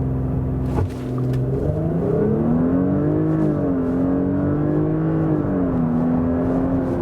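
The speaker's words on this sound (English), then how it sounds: "Everyone get ready for an acceleration part here." A Porsche Cayenne E-Hybrid plug-in hybrid SUV engine drones loudly, then rises in pitch as it accelerates hard under launch control, dipping briefly at a gear change before climbing again, heard from inside the cabin.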